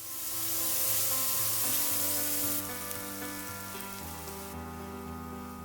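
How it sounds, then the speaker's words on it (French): Chopped onion stems sizzle steadily in hot fried-shallot oil in a wok, a loud continuous crackling hiss with no talking. "Quand elle est chaude, ajoutez les tiges d'oignon découpées et arrêtez la cuisson."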